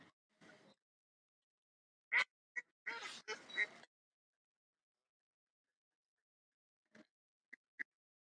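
Geese at Forest Park at sunset give a few short, honking calls in quick bursts, then several fainter, sparser calls later after a quiet stretch.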